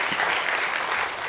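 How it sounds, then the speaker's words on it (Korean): A church congregation applauds its youth group leaders with steady, dense clapping that forms an even wash of sound, with no voices over it. "박수 한번 쳐서 우리 임원들한테 박수 한번 쳐주세요"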